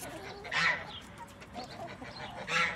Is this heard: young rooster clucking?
yes